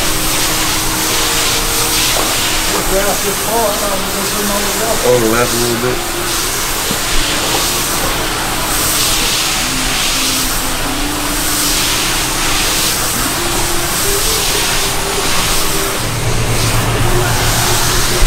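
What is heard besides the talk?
pressure washer at 400 PSI spraying greasy rink floor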